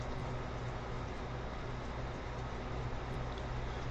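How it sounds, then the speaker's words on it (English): Steady wind blows in a constant broadband rush with no pauses, loud and close. "There's the wind again."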